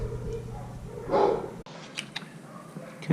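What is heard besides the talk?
dogs barking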